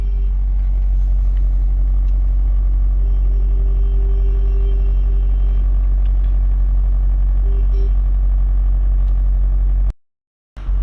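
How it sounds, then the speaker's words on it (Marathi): A car engine runs at a raised idle after a push-button start, giving a loud, steady low drone with a faint whine for about ten seconds before the sound abruptly cuts out. "तुम्हाला ऐकू येत असेल आपली गाडी रेस होती आहे."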